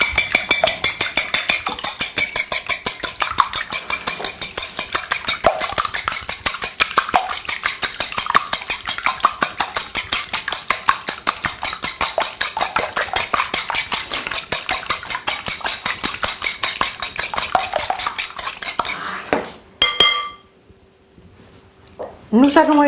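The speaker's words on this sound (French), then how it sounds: "vous battez vos œufs" Eggs beaten with cream in a bowl for a spinach tart: a fast, steady clatter of a whisk or fork against the dish, continuing for some twenty seconds before stopping abruptly.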